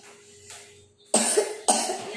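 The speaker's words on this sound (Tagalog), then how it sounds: "Ayan, inuubo ka na." A baby coughs twice in close succession, two sharp, fairly loud bursts near the microphone following a stretch of quiet room noise.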